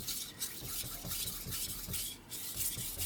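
VG10 steel knife blade stroked across a Rika 5000 whetstone, a steady close rasping scrape in repeated short back-and-forth passes with light pressure, no talking.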